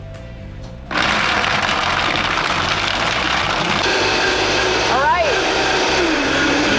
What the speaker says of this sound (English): Before we turn it on the Vitamix, we need to have this instrument